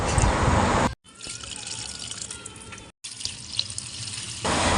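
Water gushes steadily from a hose or tap while potted plants are watered, a close, continuous rushing stream broken by two brief cuts.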